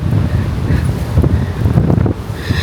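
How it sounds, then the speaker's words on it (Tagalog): Strong wind gusting outdoors in Singapore, a steady loud roar buffeting the microphone with rustling surges throughout. "Uy, lakas ng hangin."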